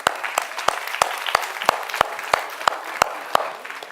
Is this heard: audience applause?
yes